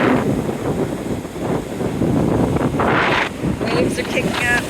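Strong, cold wind blows in a steady, heavy rush across a beach where the surf is building ahead of a storm. It is loud and continuous for the whole stretch, with no clear break.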